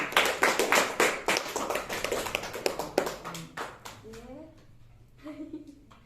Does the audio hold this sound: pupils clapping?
yes